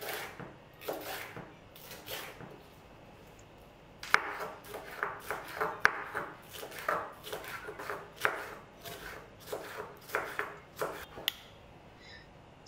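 Onions and peppers chopped with a knife on a cutting board for chicken soup, a steady run of crisp, close knocks at an uneven quick rhythm, heard alone without talk.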